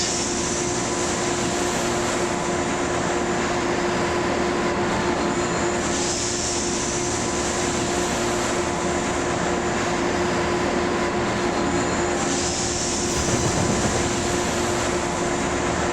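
An Acela Express train in the Trainz 12 video game runs steadily with a constant droning hum and rolling wheel noise, periodic whooshing swells marking wheels crossing a rail junction, no voices.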